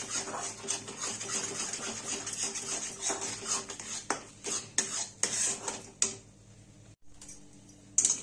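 A spoon scraping and clinking against a pan while thick khoa is stirred quickly, a steady run of metallic taps and scrapes close by.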